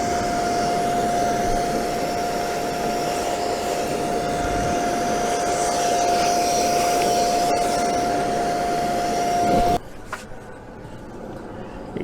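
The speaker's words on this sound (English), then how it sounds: "always wait while the router finishes" A woodworking router fitted with a Trend jig runs with a loud, steady whine for about ten seconds, then cuts off and leaves a quieter, fading hum of the motor spinning down.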